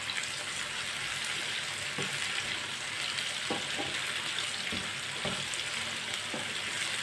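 Onions, tomatoes and long-cut green chillies cooking in a pan for a tunday vegetable dish, giving a steady, even sizzle with a few soft stirring knocks, close and alone.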